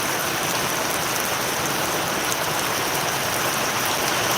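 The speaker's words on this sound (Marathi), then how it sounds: "पाऊस चालू आहे" Steady rain pours down around a temple shed, a dense, even hiss of drops on the roof and ground that continues without a break and with no voices.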